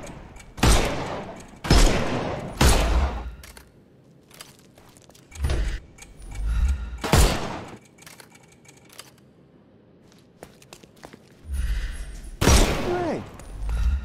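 Gunfire from a Sherlock Holmes Chapter One video game fight: five or six loud, sharp shots come in irregular bursts, separated by quieter stretches of low background ambience.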